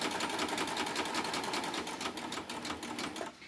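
A Baby Lock coverstitch machine sews a hem with a plain hemmer foot, giving a fast, even mechanical whir with regular rhythmic stitch pulses, fairly quiet and close, slowing slightly near the end.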